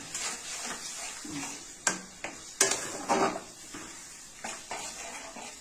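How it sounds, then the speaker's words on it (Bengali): Tomatoes and Kashmiri chili powder being stirred in a pan for a tilapia mustard curry, with a few sharp clinks of a spoon against metal and then a lid set down over a soft background sizzle. "একটু নেড়ে দিলাম, নেড়ে দিয়ে ঢাকা দিয়ে দিলাম"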